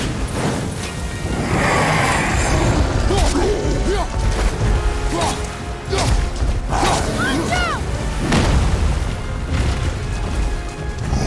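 A fire attack is fired in the 2018 God of War on PS4, a loud run of crashes, whooshes and mechanical impacts in dense game audio, with a player talking over it.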